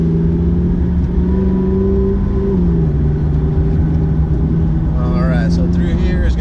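A McLaren MP4-12C sports car driving on a track, its engine droning steadily and shifting pitch under load, with people talking over the engine sound.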